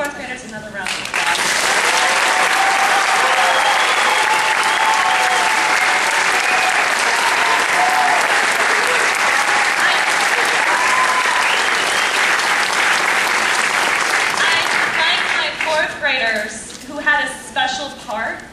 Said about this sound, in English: Let's give the fourth graders another round of applause.